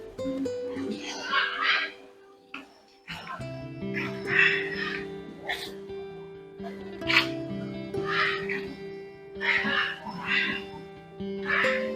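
Ducks quack in repeated bursts at the Water World park in Kelaniya, Sri Lanka, fairly close and loud over steady background music.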